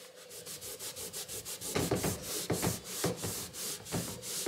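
A cloth dampened with nail varnish remover rubs back and forth over a wooden cupboard door, a quick, even series of soft scrubbing strokes, close up and fairly quiet.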